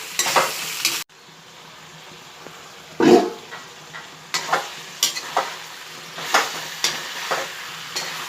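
Jackfruit curry cooks in a pan over a low gas flame, giving a quiet simmering sizzle punctuated by repeated scraping stirs. A short gap of near silence comes early, and a dog may bark in the background.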